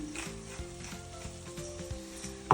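Steaks sizzle in a pan with a drizzle of olive oil, making a soft, continuous, close frying hiss with light crackles and stirring sounds.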